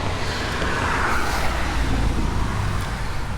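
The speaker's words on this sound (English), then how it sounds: "Wait till that car's gone by." A single car drives past on a nearby road, a steady broadband whoosh of tyre and engine noise that holds level throughout, with no voices.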